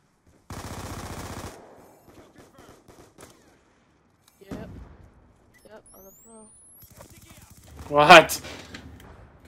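Gunfire in the video game Black Ops 2, a loud automatic burst at the start, then scattered single shots and a louder blast near the end, with a voice talking in between.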